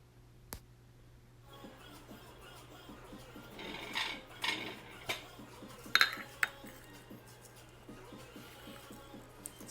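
A spoon scrapes and clinks against a bowl while cinnamon is mixed into a fruit crisp crumble topping, with quiet irregular taps building after a silent start and a few brighter clinks near the middle.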